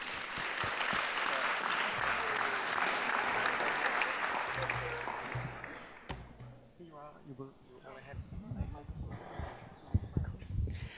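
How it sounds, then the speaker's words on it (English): Audience applause for panel speakers at a museum-professionals panel event, a dense steady clapping wash for about six seconds that then thins out into scattered claps and voices talking. "please, an applause for our speakers"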